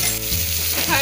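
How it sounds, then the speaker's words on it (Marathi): Ridge gourd peel goes into a hot pan for chutney and sets off a loud, close sizzle that crackles and hisses steadily, with the pitch shifting as the peel settles. "आता आपण ह्याच्यामध्ये ही तोडक्याची साल घालणार आहोत आणि"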